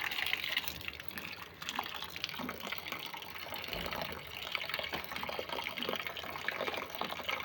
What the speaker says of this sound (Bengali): এখন এগুলোকে ভালো করে জল দিয়ে ধুয়ে